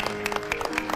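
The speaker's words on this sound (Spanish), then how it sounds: "ahí está el aplauso" Studio audience on a Chilean Canal 13 television show claps briefly, a short run of scattered sharp claps in a roomy space with a low hum beneath.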